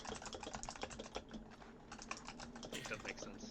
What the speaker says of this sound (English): are you guys hearing background noise from my keyboard by any chance?